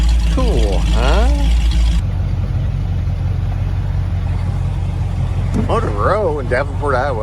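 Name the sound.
Ford Model A Roadster hotrod driving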